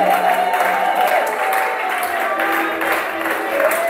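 A church congregation cheers and applauds for Jesus, with sustained clapping and crowd voices filling a large room and blended shouts and whoops holding steady throughout.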